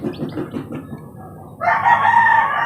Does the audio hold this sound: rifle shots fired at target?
no